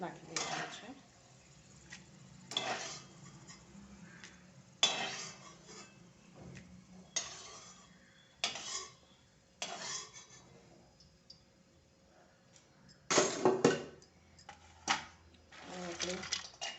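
Fried peanuts are tipped onto poha for a crispy chevda, making brief rattling, clattering bursts of nuts striking the pan and flakes. The bursts come at intervals between stretches of someone talking, with a louder scatter near the end.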